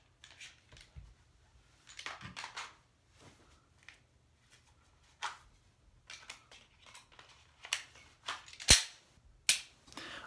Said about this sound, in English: Lastly, I will do 5 weapon hand only reloads.